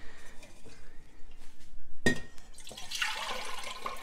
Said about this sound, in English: Oh boy, I spilled.